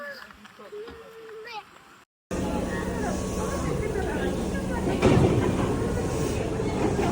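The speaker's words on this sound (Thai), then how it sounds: "ขึ้นรถไฟเข้าเมืองกันค่ะทุกคน" A train rumbles steadily through Osaka with a continuous rolling drone, heard up close from inside after a short quiet stretch, while a voice talks over it.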